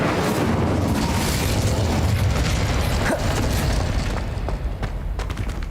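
An Incendio fire spell is cast in the game Hogwarts Legacy, giving a loud, roaring whoosh of flame with a booming burst that fades slightly toward the end.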